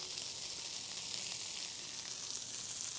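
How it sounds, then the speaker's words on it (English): Burger patties sizzle steadily on a Blackstone griddle coated in leftover bacon grease, a continuous bright hiss filling the clip at close range with no pauses. "we still got some bacon grease on it while we're cooking up these patties"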